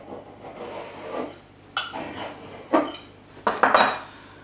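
A knife trims a pastry lid around the rim of a metal pie dish for an English breakfast pie, giving soft scraping with a few sharp clinks of blade against the dish that grow louder toward the end.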